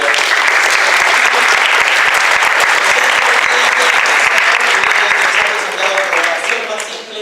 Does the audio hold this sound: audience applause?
yes